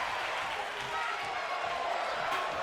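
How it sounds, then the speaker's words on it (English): A video-game wrestling arena crowd in WWE 2K24 chants "fight forever" in a steady, dense roar that holds at an even level throughout, with no clear breaks between the words. "The crowd chanting, fight forever."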